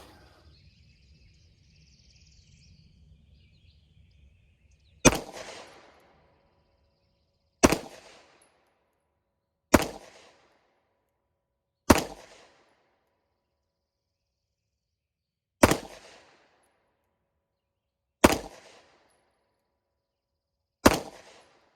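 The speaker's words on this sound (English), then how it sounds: "I'm going to do that and then I'm going to shoot some steel" A Wilson Combat EDC X-9 pistol fires at an outdoor range, seven sharp, loud single shots spaced a few seconds apart, each with a short decaying tail, after a quiet stretch of faint insect-like chirping.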